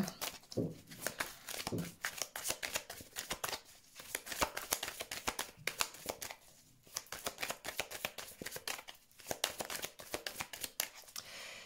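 Tarot cards are shuffled by hand for a reading, a rapid run of crisp riffling flutters and soft slaps coming in repeated bursts with brief pauses between them.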